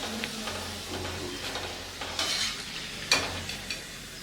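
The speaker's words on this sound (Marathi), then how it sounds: "अशाच प्रकारे आता मी राहिलेल्या पुऱ्या देखील तळून घेणार आहे" Puris deep-frying in hot oil as part of a festive vegetarian thali, a soft steady hiss with a few brief clinks and scrapes from a utensil, fairly quiet and close, without talk.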